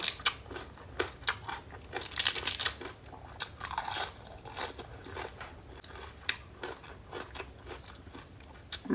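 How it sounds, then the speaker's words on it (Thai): Someone bites into and chews crunchy raw vegetables served alongside pork larb, giving repeated crisp crunches and wet chewing close to the microphone, fairly quiet, with no talking. "ผักกรอบๆนี่จ้ะมา"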